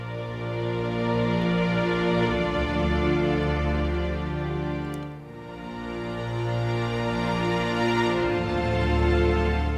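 Symphonic Series string ensemble library played with reverb set low in the mix, sounding as full sustained string chords that swell, dip briefly near the middle, then build again over about ten seconds, with no voices.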